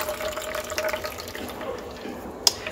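Coconut milk being squeezed out of a juiced coconut mixture for an Ital stew gives a close, continuous wet trickle and splash of liquid, with one brief sharper drip-like click near the end and no talk.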